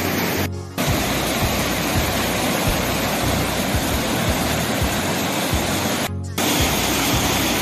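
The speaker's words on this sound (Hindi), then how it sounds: "देखिए पुल के ऊपर से जा रहा है पानी" Floodwater rushing over a road bridge in hilly country during a severe flood, a loud, unbroken roaring wash that fills the scene, briefly cut twice.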